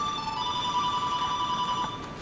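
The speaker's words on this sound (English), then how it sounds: "as my cell phone is ringing," A cell phone rings in a room with a steady electronic tone that holds for a couple of seconds, loud and clear with no talk over it.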